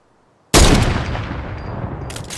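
A sudden loud blast from an assault rifle in Fortnite breaks the silence, followed by a long ringing decay and a couple of faint later shots.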